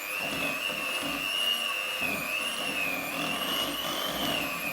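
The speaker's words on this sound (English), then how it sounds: "You can almost tell by the sound of the whisk that you've loosened up the mixture enough." A whisk beats chocolate cake mixture in a bowl, giving a steady, continuous whirring and scraping that holds at an even level throughout, close by, with no talking.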